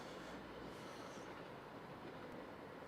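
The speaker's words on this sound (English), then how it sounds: "we've got snaking across Doncaster, Transpennine Express" A TransPennine Express train heading for Liverpool rolls through Doncaster as a steady broadband rumble and rail roar, with faint wheel noise holding at an even level the whole time and no voices.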